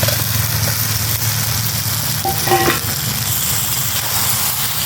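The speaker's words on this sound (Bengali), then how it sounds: "ভালো করে মশলাটাকে কষাবো।" Spice paste sautéing in a pan for a thin chicken curry with big potatoes, a low steady sizzle under a humming background drone, with a few brief clinks partway through and no talk.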